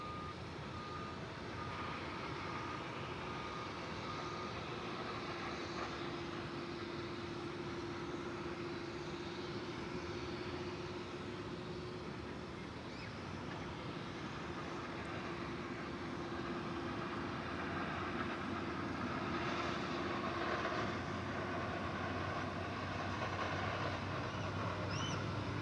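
A Frontier airliner passes at DFW Airport at night, its jet engines a steady broadband roar with a faint sustained tone, fairly distant and unchanging for the whole stretch.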